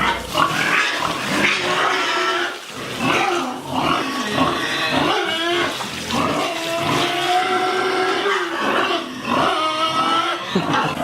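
Pigs on a Minecraft pig farm keep up a steady stream of grunts and squealing oinks, loud and close. The calls overlap continuously with only brief dips.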